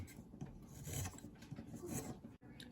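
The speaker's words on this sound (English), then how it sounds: "with the chisel. So easy to carve. I do like poplar." A chisel carving into poplar wood for a handmade fishing lure, giving close, faint rasping and scraping strokes in an irregular rhythm with no talking.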